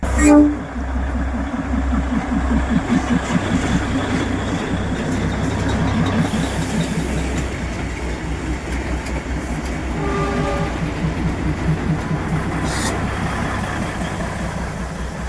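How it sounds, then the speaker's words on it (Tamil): A shuttle train on the Matheran hill railway in India rumbles past nearby with a steady rhythmic clatter of wheels over rail joints, lasting throughout, with a brief horn-like tone near the end. "அந்த ஷட்டில் ட்ரெயின் வருதுங்க, பார்க்குறீங்களா?"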